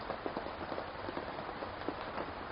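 Rain falling outdoors in a natural setting, a soft continuous patter with scattered drops, faint and steady with no talking.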